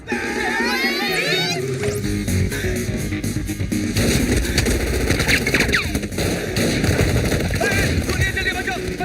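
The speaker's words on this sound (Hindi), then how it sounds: "गोलियां चल रही है" Gunfire in a Hindi comedy film scene: dense rapid shots and bursts run continuously and loudly under shouting voices and a busy music bed.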